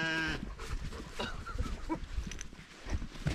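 Goats on a blueberry farmstead bleat once, clearly and up close, at the start, followed by a scatter of shuffling, knocking farm noises and faint animal sounds.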